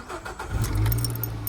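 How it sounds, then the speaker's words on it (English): A Nissan Qashqai engine cranks briefly and catches, settling into a close, steady idle rumble after the start. "The car would start"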